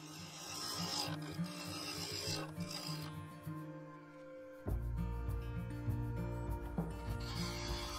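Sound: bowl gouge cutting thin layers on wood lathe bowl

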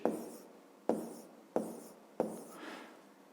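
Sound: writing numbers by hand

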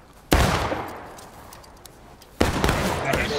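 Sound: gunfire in the video game War of Rights

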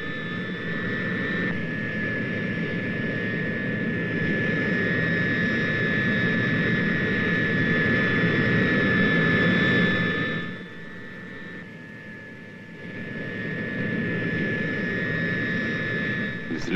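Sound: turboprop aircraft engines running

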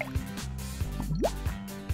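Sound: drops of red food coloring dripping, cartoon

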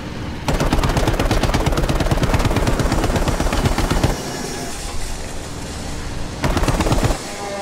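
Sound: machine gun fire in a video game

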